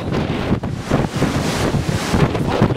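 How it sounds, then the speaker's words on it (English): Strong wind buffets the microphone in loud, continuous gusts, roaring and rumbling with no voices. "Hell of a windy day."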